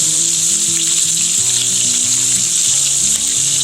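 A New York strip steak sautés in a hot pan, giving a loud, continuous sizzle close by, while a low musical backing plays underneath throughout.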